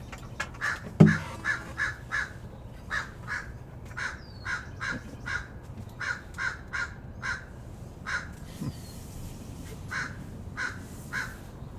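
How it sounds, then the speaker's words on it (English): Crows cawing in a backyard, giving repeated harsh calls in quick rhythmic runs of two to four caws, moderately close and fairly loud over faint background hiss, with no talking. "which of course includes the crows here in my backyard"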